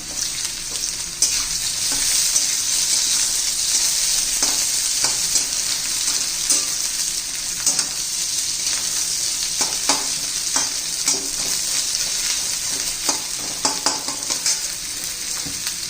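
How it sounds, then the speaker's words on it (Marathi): Onion sautéing in a pan with cloves and peppercorns for a fenugreek and pea dish sizzles continuously up close, broken by repeated sharp clinks and scrapes of a spoon stirring against the metal. "कांदा घालून घ्यायचा आहे कांदा परतून घेणार आहोत"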